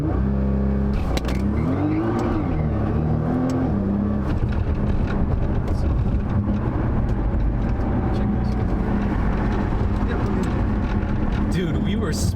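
A 2012 Nissan GT-R launching with all wheels spinning, its engine roaring hard at full throttle over a sustained, loud drivetrain rumble, with voices shouting intermittently over the noise.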